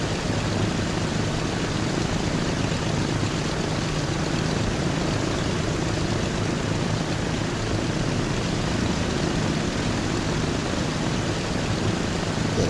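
Airplane engine drone from a plane nose diving near an airport in the Transport Fever 2 game, Greater London map; a steady, loud, continuous broadband roar holding level throughout with no talking.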